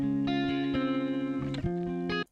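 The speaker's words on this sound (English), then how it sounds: "I put a 1/8 panning delay. So it's a delay that hits your left ear, then your right ear" An electric guitar melody for a hyperpop track plays sustained, distorted notes through an eighth-note delay that bounces between left and right, with a light room reverb, ending with a sharp cutoff.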